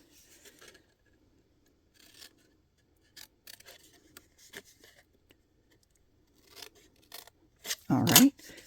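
Scissors snipping through scored paper for an Easter basket, a series of short crisp cuts spaced out in an otherwise quiet room, ending with a louder rustle of handled paper.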